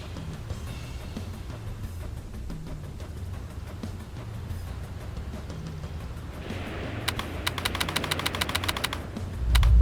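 Automatic gunfire and explosions from battlefield combat in the real-time strategy game Ground Control 2, a steady rumble of distant blasts under rapid bursts of machine-gun fire that grow louder and denser toward the end.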